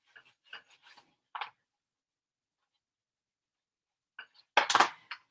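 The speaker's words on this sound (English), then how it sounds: "fold it down and burnish." A folded paper tab with adhesive is burnished on a craft album, producing brief dry rubbing strokes at close range: a few soft scrapes, a pause, then a louder burst of rubbing.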